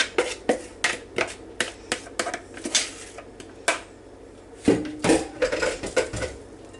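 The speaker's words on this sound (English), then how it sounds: "we'll mix our cabbage" Chopped Chinese cabbage salad is tossed in a bowl, with irregular sharp clacks and scrapes of utensils against the bowl, some quick bursts and brief pauses between them.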